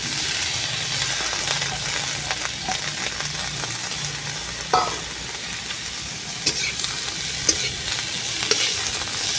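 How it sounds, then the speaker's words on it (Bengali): Shredded cabbage frying in a pan for a cabbage chop, with a steady bright sizzle and occasional stirring scrapes and taps, close and continuous without speech. "দিয়ে একটু ভেজে নেবো এবার বাঁধাকপিটা দেব"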